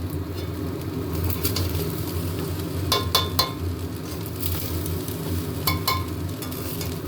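Food sizzling in a pan while being stirred, a soft continuous fry with a few sharp utensil clinks against the pan, over a low background hum.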